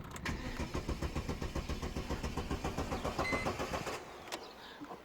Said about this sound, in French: lorsque on tourne la clé, on essaie de démarrer, le moteur ne part pas